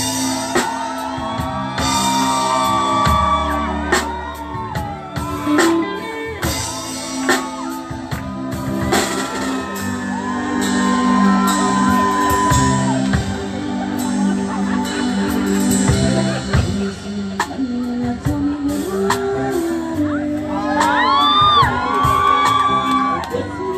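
A crowd at a birthday celebration for a singer cheers, whoops and shouts over loud music, with voices calling out throughout and bursts of excitement rising near the end.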